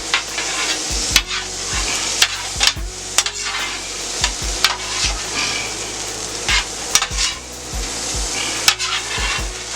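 Jambalaya with Worcestershire sauce stirred on a Steelmadeusa steel griddle, a metal spatula scraping and clacking in repeated strokes over a steady close sizzle.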